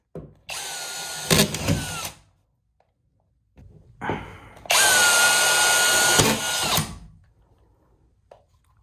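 A power drill drives screws to fasten a sheet in a hoarder house renovation, running in two bursts of about two seconds each. The whine is loud and close, with a brief quiet gap between the runs.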